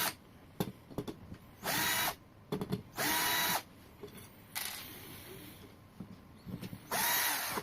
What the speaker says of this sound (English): I need to remove this screws.